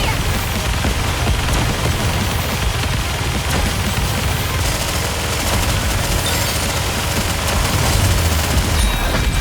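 Video game battle gunfire: a dense, continuous rattle of rapid shots and bursts mixed with booms, loud and unbroken throughout, with no talk over it.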